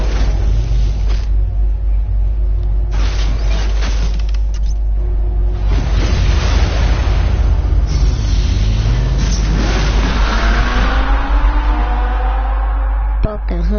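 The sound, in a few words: fast car engine in Batman: The Telltale Series video game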